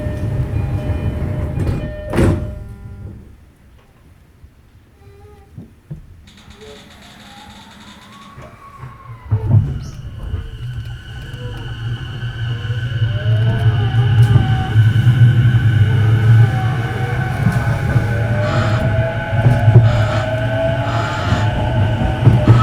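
A JR Ome Line E233-0 series electric train with Mitsubishi IGBT traction starting from a stop, its motor whine climbing steadily in pitch over loud wheel and track rumble, with door and cabin sounds early on.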